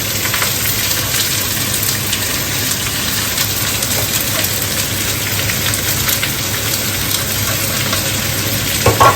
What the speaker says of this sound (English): After sauteing the chili and the bay leaves for a couple of minutes, I am going to add the chopped So this is five chopped onions here.